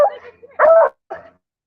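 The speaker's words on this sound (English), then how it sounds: "Holy shit, there's a dog." A dog lets out a couple of short barks and yips up close in a room, with people talking nearby.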